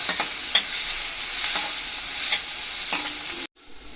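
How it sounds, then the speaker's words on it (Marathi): Onion frying in a pan over low heat, a steady soft sizzle with a few light stirring scrapes, close and continuous before cutting off abruptly near the end. "कांदा जरा लालसर नरम होईपर्यंत परतूया आपण"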